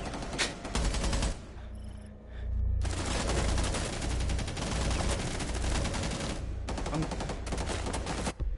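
Sustained automatic gunfire from a hard-recoiling gun in a ranked video game match, with long dense bursts broken by brief pauses and ending in another heavy stretch of shooting.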